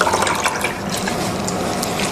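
Water splashes and swirls steadily as garlic and ginger are stirred into it in a kitchen, a continuous close wet churning with small splashy bursts and no talking.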